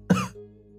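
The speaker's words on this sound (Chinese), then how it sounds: "咳嗽了几声" A weak man, just woken in bed, gives a single short, close cough with a rough throaty edge, followed by a faint low hum.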